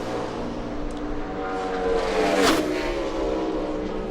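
A NASCAR Chevrolet race car runs a qualifying lap at Texas, its engine a steady droning roar that swells slightly as it passes nearby, then settles back to a constant hum, with no talk.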